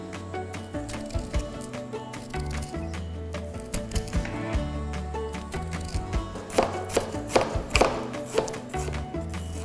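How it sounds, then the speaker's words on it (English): A spoon scrapes the skin off fresh ginger. A run of rough, rhythmic scraping strokes grows stronger toward the end, over steady background music. "To peel the ginger, the best tool is a spoon."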